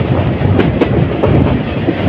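The Parabat Express train rolls through hilly country near Sreemangal, a loud close rumble with rhythmic clickety-clack of wheels over rail joints.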